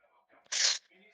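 A single sharp sneeze bursts out close to the microphone, loud and brief, with faint voices and noise around it during an online game session.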